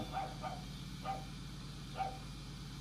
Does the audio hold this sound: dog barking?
yes